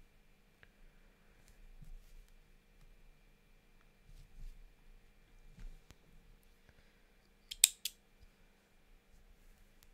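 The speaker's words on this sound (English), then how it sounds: "these snips never work. I don't know why they're working today." Yarn snips close on knitting yarn ends with a pair of crisp, near snaps in otherwise quiet surroundings, after a few faint handling rustles.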